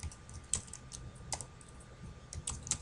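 Computer keyboard keys tapped by a person writing HTML code, a few sparse, soft clicks spaced irregularly over a low room hum, no voice.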